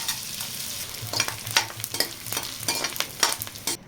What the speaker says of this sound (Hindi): घी जब अच्छे से गर्म हो जाए तो इसमें हम थोड़ी थोड़ी गोंद डालेंगे और इसे अच्छे से फ्राई कर लेंगे